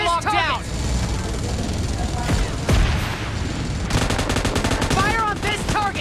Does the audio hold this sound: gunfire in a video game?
yes